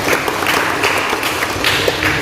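An audience at a local government gathering applauds the sub-district head, with dense, continuous clapping from a crowd.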